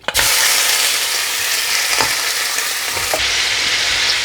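Meat hitting hot oil in a karahi for Pakistani karahi gosht, an immediate loud, dense sizzle that carries on steadily, broken by a few soft stirring clacks.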